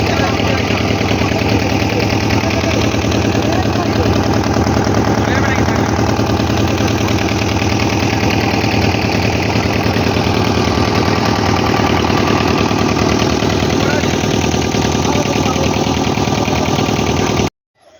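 A boat engine runs on a river ferry crossing to Mousuni Island, a loud, steady mid-pitched drone with a knocking pulse that continues unbroken and then cuts off abruptly at the end.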